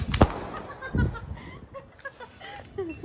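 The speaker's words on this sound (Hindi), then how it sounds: "इस छोटे से पटाखे की जिसका नाम है टू साउंड और इसे जलाते हैं" A small "Two Sound" Diwali firecracker is lit and goes off with a sharp loud bang, followed by a second thump, while people talk and laugh nearby outdoors.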